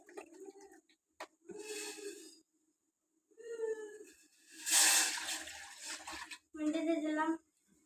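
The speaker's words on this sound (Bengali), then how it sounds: "তারপর এটা তেলের মধ্যে পানি ঢেলে দেবো।" Water is poured into hot oil in a pan while Maggi noodles are being made, giving short rushing, hissing bursts separated by pauses, with a voice talking in between.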